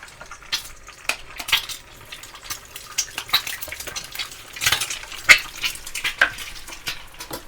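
Steady crackling sizzle of an egg frying in hot oil, with sharp pops and spatters scattered throughout, close and fairly loud, no voices.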